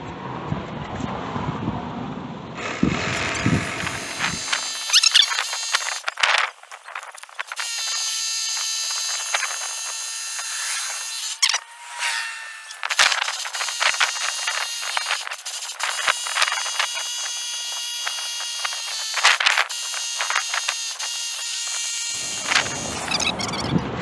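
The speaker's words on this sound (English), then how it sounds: "I'm using my buddy's cigarette powered tire charger" A small tire inflator plugged into a cigarette lighter socket buzzes and whines steadily while inflating a lawn tractor tire. Its motor runs close and loud with rattling overtones, briefly dropping out a couple of times before stopping near the end.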